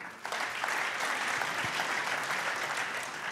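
Crowd clapping at a French sports awards evening for a volleyball nominee, starting abruptly and continuing as a steady, moderately loud patter of many hands to the end.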